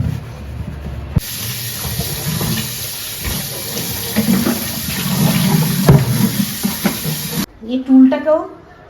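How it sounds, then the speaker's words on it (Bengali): Water from a tap runs in a steady hiss for several seconds while a mango is rinsed clean in a home kitchen. A voice comes in briefly as the water stops. "আমটা কি নোংরা হয়েছে এত সময় পেয়েছে আগে না এটা ধুই ধুয়ে পরিষ্কার করি"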